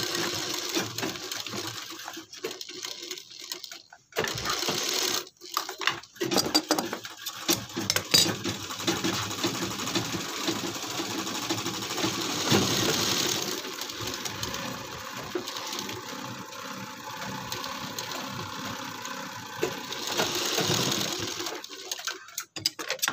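Sewing machine stitching along the buckram edge of a kurti half collar, a steady mechanical whir running in several bursts with brief pauses between runs, close and fairly loud, no talk.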